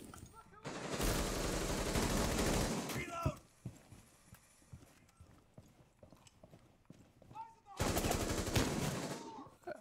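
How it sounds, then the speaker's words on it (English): Gunfire in a shooter video game: two long, loud bursts of rapid automatic fire, separated by quieter shuffling, clicks and distant shots, with a voice heard between the bursts. "I just got shot at."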